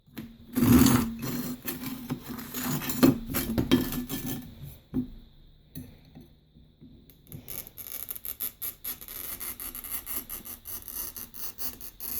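Scratchy grinding and scraping of a scoring cutter dragged across a ceramic tile, with sharp clicks, followed by a quieter rhythmic rasping.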